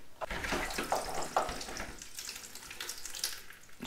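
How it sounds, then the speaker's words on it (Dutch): Water trickles and splashes from a drain tap on an underfloor heating manifold, a faint irregular dribble with small sputters and gurgles. "Dus komt er een klein beetje water uit."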